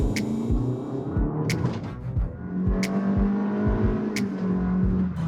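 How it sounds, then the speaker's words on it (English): A 2024 Honda Elevate with a CVT gearbox drones steadily under full-throttle acceleration, its engine pitch held fairly level, with road thumps from potholes and occasional clicks cutting through the hum. "that's what the CVT gearbox sounds like in the top spec model."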